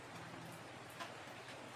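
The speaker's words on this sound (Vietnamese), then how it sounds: "Hôm nay trời đã mưa to." Heavy rain falls during a thunderstorm as a faint, steady hiss of drops on surfaces, continuous and even throughout, with no voices.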